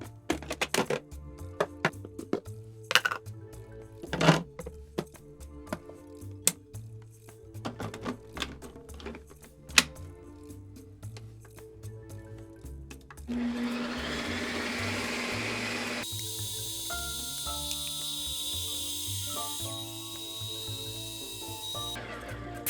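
A Ninja Creami machine spins a frozen piña colada cocktail, with a steady whirring and grinding drone that starts after scattered clicks and clatter and then holds loud and continuous to the end.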